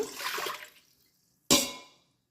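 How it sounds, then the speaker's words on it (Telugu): Two short bursts of one glass of water being poured into the steel pot of an Instant Pot, the first longer and splashier, the second a quick sharp splash after a pause. "ఇందులో వన్ గ్లాస్ వాటర్ పోస్తున్నాను"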